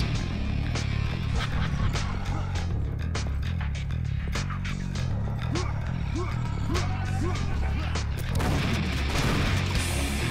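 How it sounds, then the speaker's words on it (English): Fire extinguishers blowing up in the video game Painkiller, in the Opera House level: a loud burst of crashing, booming game noise near the end, after dense game sounds with someone talking throughout. "Oh, the fire extinguishers explode?"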